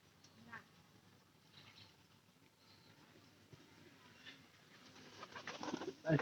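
A visiting pigeon at a rural home coos softly at close range while people talk nearby, with the voices and background noise growing louder toward the end.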